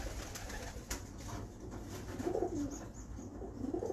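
Pigeon cooing from a prized bird at a pigeon keeper's loft, soft repeated coos rising over steady background noise and chirps, with a couple of fuller coo bursts near the end.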